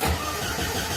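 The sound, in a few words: Alfa Romeo car engine starting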